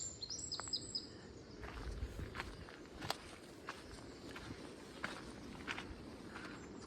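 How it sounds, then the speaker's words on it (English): Faint songbird phrases drift in from a distance along a coastal undercliff road at St Lawrence, Isle of Wight, in April, partly masked by close, crunching footsteps that continue throughout. "Kind of nightingale-ish, isn't it?"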